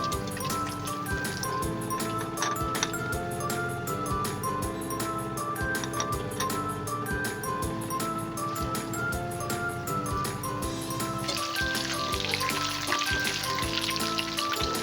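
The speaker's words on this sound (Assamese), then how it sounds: "বাকীখিনিও মই এনেদৰে চিকেন মই ফ্ৰাই কৰি ল'ম" Boneless chicken pieces frying crisp in hot oil crackle and sizzle loudly and continuously up close, the bubbling growing brighter and hissier toward the end.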